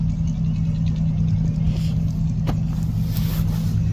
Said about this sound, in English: I think that's the same truck that was here the other day.